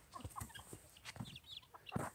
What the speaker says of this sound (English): Here are our little buff Brahmas.